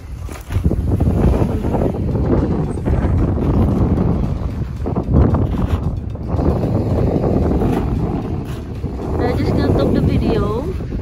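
Strong, cold wind at a harbour buffets the microphone in a steady, heavy roar that lasts throughout, with a voice speaking underneath.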